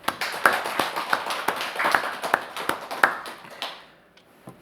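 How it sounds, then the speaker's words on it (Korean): Church congregation clapping in welcome, a loose series of sharp, irregular claps from a modest group that thins out and fades near the end. "다시 한번 우리 축복하고 환영의 박수하겠습니다."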